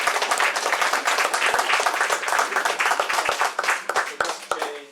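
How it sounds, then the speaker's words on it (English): An audience at a book launch and reading bursts into sustained applause, dense clapping that holds steady and then thins out toward the end. "which I think, deserves a round of applause"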